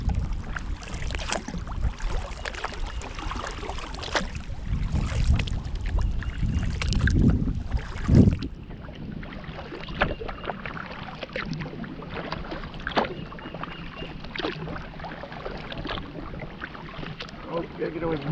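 A kayak out on a river running high at a 20-foot level, with steady rushing water and wind buffeting the microphone, a louder surge of splashing midway, and a voice speaking briefly.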